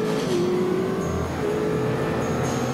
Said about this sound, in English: Dude, these fucking cars are fast as shit.